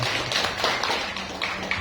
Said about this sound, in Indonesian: Berikan tepuk tangan untuk Arif.